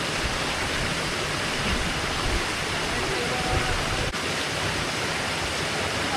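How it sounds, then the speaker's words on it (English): Constant rushing water from a nearby waterfall on the Kudremukh trek in Karnataka roars as a steady, broad wash of noise, with no speech. "There is a waterfall. You can see the water stream passing through."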